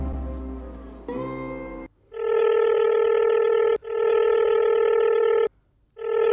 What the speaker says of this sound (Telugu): రే గాయత్రి ఫోన్ చేస్తుందిరా.